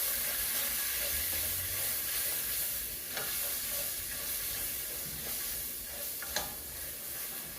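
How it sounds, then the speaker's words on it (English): A tomato basil soup, thickened with a teaspoon of cornstarch, is stirred in a pot. Soft scrapes and light clinks sit over a low, steady bubbling hiss, fairly quiet and close, with no speech. "Now let's stir."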